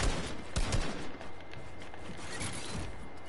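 Rapid bursts of video game gunfire crackle in a quick fusillade, with mechanical clicks between shots, loud and close throughout a short stretch of online multiplayer play.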